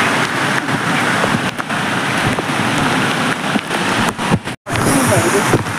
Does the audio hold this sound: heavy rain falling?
yes